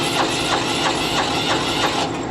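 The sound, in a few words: M1070 HET truck APU auxiliary power unit starting up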